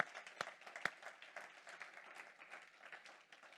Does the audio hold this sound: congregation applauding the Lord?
yes